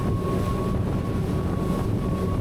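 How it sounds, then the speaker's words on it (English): A Technohull GTX speedboat runs at full wide-open throttle in wind and chop, a steady, loud, dense roar of engine and rushing water with wind buffeting and a thin constant whine above it. "And now let's go full wide open throttle."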